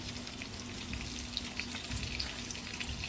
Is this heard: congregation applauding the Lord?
no